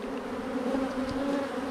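Honeybees swarm thickly over a hive frame, their dense, steady buzzing holding close and unbroken throughout.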